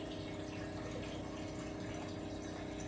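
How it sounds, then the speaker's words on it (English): Alkaline water pours steadily into a cooking pot, a continuous filling rush with a low running hum underneath, close and unbroken, with no voices. "I'm gonna put a portion of this here alkaline water"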